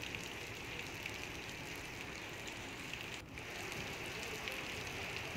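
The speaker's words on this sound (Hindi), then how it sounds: "बारिश जो है वो हो रही है यहाँ पर" Steady rain falls in Haridwar, a constant soft hiss of drops striking surfaces, even and moderately faint with a brief dip midway and no voices.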